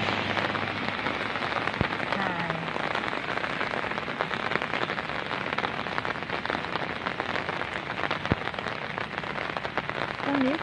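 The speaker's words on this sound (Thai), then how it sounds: "ขับรถมาฝนตกเลยมาย" Steady rain pours down in a dense, even hiss of drops pattering on surfaces, continuous throughout with no voices.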